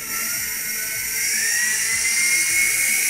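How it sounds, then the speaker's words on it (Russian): A Wltoys V955 RC toy helicopter runs its rotors on the ground, giving a loud, continuous high-pitched whine like a dental drill that climbs slightly in pitch as the motor speeds up. "сейчас к вертолетику надо привыкнуть немного. Шумящий какой."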